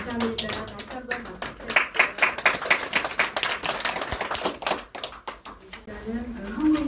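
Church congregation clapping at a new church's dedication service after a worship song, irregular bursts of hand claps with rhythmic stretches, rising and falling, with voices over parts of it.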